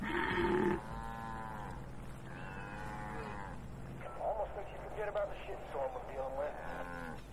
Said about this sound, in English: Oh shit, the cow's gone mad!